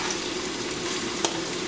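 Diced tomatoes fry in a pan with a steady, moderate sizzle, close by and unbroken, with one brief sharp tap near the end and no voices.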